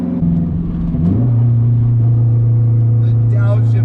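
Turbocharged 8th-generation Honda Civic with an open downpipe cruising, its steady low engine drone holding near and loud throughout while a voice talks over it.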